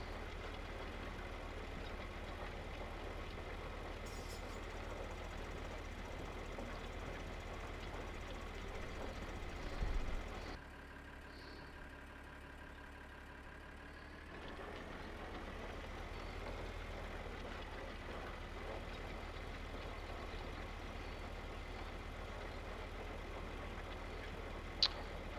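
Big tractor engine idling in the Farming Simulator video game, a steady low rumble that runs throughout, dipping briefly to a quieter stretch before resuming at an even level.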